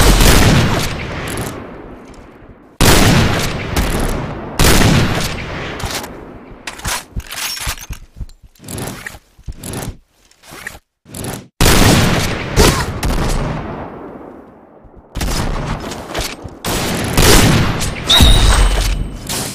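Cheytac M200 sniper rifle shots in the video game Point Blank: loud, sharp, booming reports, several in quick bursts with short gaps between them, plus game sounds in between.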